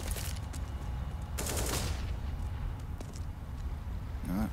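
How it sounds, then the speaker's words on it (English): Rapid pistol fire from a CZ in a CS:GO pro tournament match, a quick rattling string of shots mixed with other gunfire and game noise, with a caster talking over it. "The CZ's rattling out"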